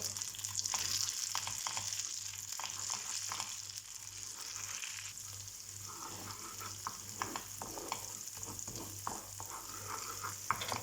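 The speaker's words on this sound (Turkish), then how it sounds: "Bir yemek kaşığı salçamı ilave ediyorum. Salçamı da güzelce 1-2 dakika kavuruyorum." Tomato paste fries in melted butter in a pan with a steady, quiet sizzle, broken by occasional clicks and scrapes of stirring, heard alone without talk.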